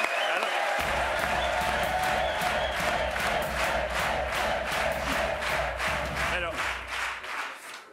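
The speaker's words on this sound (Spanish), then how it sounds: "Un aplauso." Studio audience at a Spanish late-night talk show breaks into loud applause with cheers and whoops, rhythmic clapping that rises and fades toward the end.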